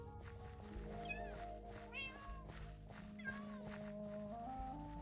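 Minecraft cats let out three or four rising-and-falling meows, fairly close, layered over steady in-game music and low background hum.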